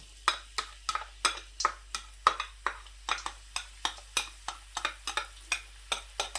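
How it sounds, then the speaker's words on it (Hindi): Onions for a chicken gravy are stirred in hot oil. Regular, evenly spaced spatula strokes scrape about three times a second over a soft sizzle, close and steady, with no talking. "अभी मैं सबसे पहले प्याज जो है वो ऐड कर देता हूँ।"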